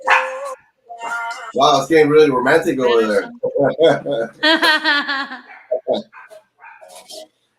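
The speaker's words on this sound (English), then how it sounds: "Uh-oh, the dog." A dog barks in a few short bursts amid lively talk and laughter from several people on a casual show.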